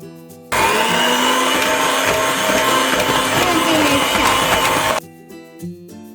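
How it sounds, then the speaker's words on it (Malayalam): An electric mixer runs loud and steady through vanilla cupcake batter for about four and a half seconds, then cuts off abruptly, leaving only faint kitchen clatter behind. "ഗ്രാജുവലി നമുക്ക് നമ്മുടെ ഈ മാവ് ഈ മിക്സറിലോട്ട് ഇടാം"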